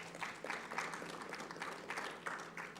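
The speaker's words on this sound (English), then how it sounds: "Please welcome him warmly." A summit audience applauds to welcome a new moderator, with steady, even clapping from a crowd at moderate distance, fairly quiet and continuous for a few seconds.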